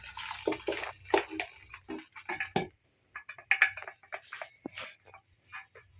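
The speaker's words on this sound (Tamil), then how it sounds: "அந்த குழம்ப தூக்கி இதில் ஊற்றுறாங்க" Mutton curry poured from one vessel into another in a home kitchen, a series of short splashing, sloshing pours with brief pauses and a clink at the end.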